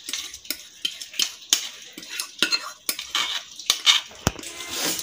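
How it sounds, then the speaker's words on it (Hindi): Chicken is tossed with a mustard and oregano marinade, giving a string of sharp utensil clinks and wet scraping strokes against a bowl in an irregular rhythm, close by. "अच्छे से अपने मिक्सचर को जो चिकन पे जो है हम मिक्स कर लेंगे"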